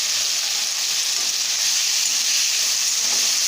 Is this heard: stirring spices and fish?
yes